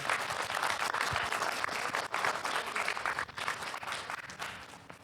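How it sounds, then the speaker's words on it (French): Applause at a school memorial ceremony at a collège, a dense crowd clapping steadily for the full stretch with only small dips in intensity. "on peut les applaudir effectivement"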